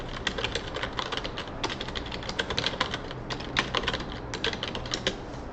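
Typing a menu name on a computer keyboard, with quick irregular key clicks in steady bursts, close and clear with no talking.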